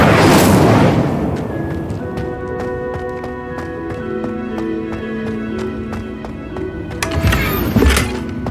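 Incendio fire spell cast in Hogwarts Legacy, a loud whooshing burst at the start that settles into a rumbling crackle over steady game tones, with another heavy burst near the end.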